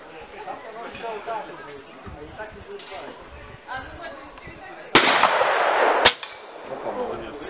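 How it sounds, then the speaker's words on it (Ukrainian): Children fire hunting guns at an outdoor gathering: two sharp, loud blasts stand out a second apart, the first with a longer ragged tail, over steady crowd chatter and voices. "Більше того, мала нагоду власноруч постріляти із мисливської зброї."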